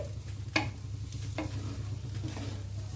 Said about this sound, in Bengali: দু 3 চামচের মতো কর্নফ্লাওয়ার নামানোর আগে দিয়ে নাড়তে নাড়তে